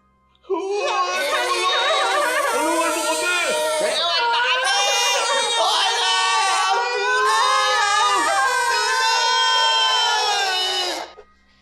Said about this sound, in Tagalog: Kakaibang tunog mula sa yero at mga iyak ng bata.